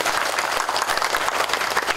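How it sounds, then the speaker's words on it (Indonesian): A crowd at a vocational school anniversary event and hotel launch in Tulungagung applauds the regent, a loud, dense burst of many hands clapping together without pause. "tepuk tangan dulu untuk Pak Bupati"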